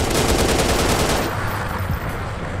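Rapid gunfire in a first-person shooter video game where the player hunts a rat cryptid, dense and loud for about a second before giving way to quieter game noise with no talking.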